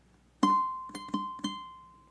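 Single ukulele notes picked on the first string come as four plucks in a row, one sharp attack followed by three quicker ones, each ringing briefly and clearly with no talking.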